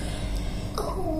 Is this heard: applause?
no